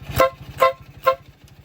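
A Nitros compact horn on an idling vehicle gives three short evenly spaced toots over a low engine rumble.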